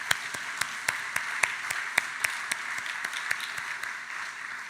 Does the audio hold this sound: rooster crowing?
no